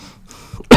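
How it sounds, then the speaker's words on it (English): A single sharp, loud cough from a person bursts out near the end, after a stretch of quiet low background. "I don't care that I'm coughing or something like that"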